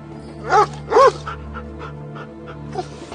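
A dog in the Lost Horizon adventure game gives two short, close barks in quick succession, followed by softer panting and a faint yip over a steady low hum.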